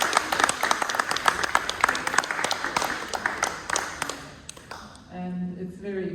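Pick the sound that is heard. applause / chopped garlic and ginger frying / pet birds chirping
applause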